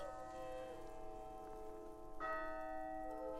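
Church bells peal in an animated Christmas tale set in falling snow, sustained ringing tones layered together, with a fresh strike swelling in partway through.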